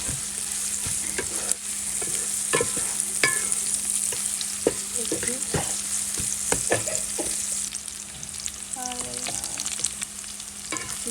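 Onion and chili sizzle steadily in a hot pan, a continuous bright frying hiss with scattered clicks and scrapes of a spatula stirring throughout.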